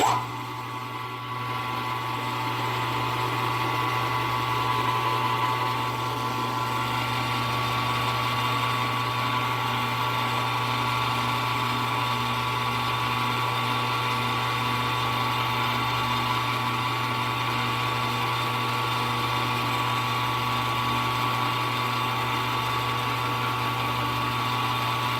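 A machine tool spindle turning steadily at 800 RPM while machining a spindle bearing drive pin: a continuous, even motor hum with a constant tone and a faint whine, unchanged from start to finish and heard without voices.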